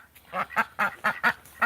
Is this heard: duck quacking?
yes